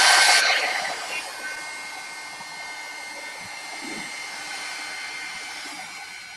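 Hair dryer blowing on wet artwork at a desk, starting with a loud burst of airflow that eases into a steady, even whir held at moderate level for several seconds, with no talking.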